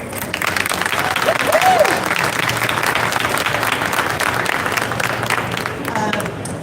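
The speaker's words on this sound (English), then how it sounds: "y'all should give yourself a round of applause" Steady, dense applause from a large audience at a solar startup demo day, sustained throughout with a few voices mixed in.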